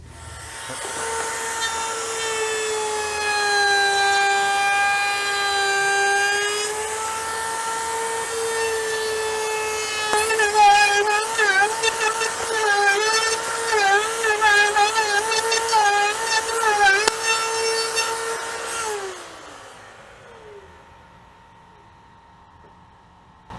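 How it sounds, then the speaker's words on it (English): A wood router fitted with a bearing-guided chamfer bit runs at a loud, steady high-pitched whine, then bites into an orange epoxy resin and walnut charcuterie board edge with a rougher fluttering tone before spinning down. "once that spins, it's going to cut around chamfer all around the entire perimeter that we run through this"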